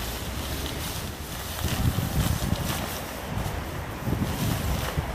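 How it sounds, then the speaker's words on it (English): Wind gusts buffet the microphone in rough, rising and falling bursts over a constant broad rush of outdoor air during a tarp tent setup. "because it's windy and possibly raining"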